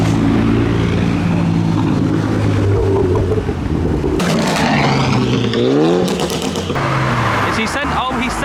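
A modified Mazda MX5 accelerates hard as it pulls into a car meet, its engine revving loud and close through several sharp gear pulls, with people talking faintly nearby.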